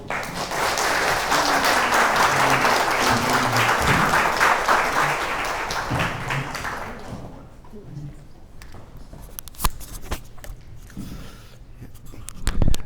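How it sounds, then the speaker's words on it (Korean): Audience applause greeting a professor at a morning lecture forum, loud sustained clapping for about six seconds that then fades out into a quieter room with scattered small noises and some voices. "호사카 유지 교수님을 박수로 맞아주십시오."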